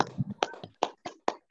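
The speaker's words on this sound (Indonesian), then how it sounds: "Tepuk tangan untuk kita semua hari ini." A handful of claps ring out in a classroom, sharp and separate, in a loose uneven rhythm before fading out.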